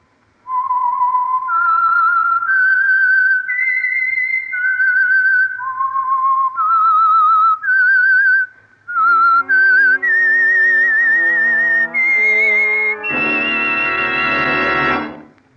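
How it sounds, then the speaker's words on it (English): A clear, loud whistled melody of rising and falling notes, the signal tune of the old-time radio program The Whistler, joined near the end by a swelling orchestral chord. "the signal to listen for is this whistle that identifies the Signal Oil program"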